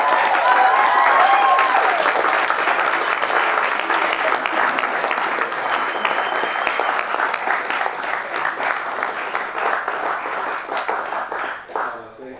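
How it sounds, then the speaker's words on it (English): A school morning meeting audience gives sustained, loud applause. The close, dense clapping carries on for the whole stretch and tapers off near the end. "Let's give some a round of applause for that."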